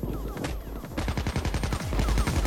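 Rapid video game gunfire and a flashbang in Payday 2: dense, loud volleys of automatic shots crackling in quick succession, with a sharp burst partway through.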